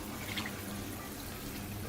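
Water sprayed into a blender to clean it, a continuous close hiss and splash with no pauses, fairly soft and steady throughout.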